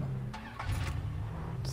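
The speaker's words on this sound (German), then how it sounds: "Kommt auch ein Auto, oder? Das klang gerade so." A car approaches in the video game Far Cry 3: a faint, low engine rumble with a few brief higher swells, set under steady game ambience.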